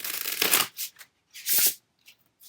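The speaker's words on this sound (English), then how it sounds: "Doesn't shuffle as deliciously as Tina Gong's Golden Thread" Quick bursts of plastic tarot cards being shuffled, a long riffle, then a second one after a pause, with a few soft flicks in between.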